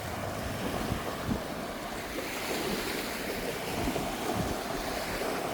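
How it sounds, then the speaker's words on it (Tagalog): Sea waves roll onto the beach at Station 1 on Boracay, a steady, broad wash of surf with wind buffeting the microphone and soft breaking swells throughout. "Yan po yung dagat natin dito sa Station 1."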